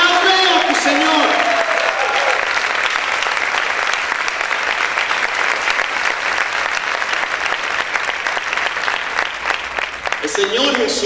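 Sustained loud applause from a church congregation, thick continuous clapping lasting several seconds, with a voice speaking over it at the start and end and crowd noise underneath.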